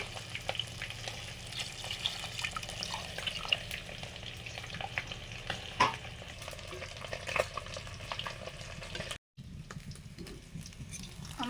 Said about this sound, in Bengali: আসলে শোল মাছগুলো ভাজা হয়ে গেছে নিয়ে নিলাম